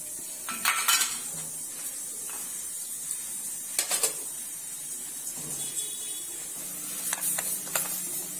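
A metal idli cooker vessel is handled and greased with oil, bright metallic clinks and scrapes in short clusters over a steady background hiss, fairly close and with no talk.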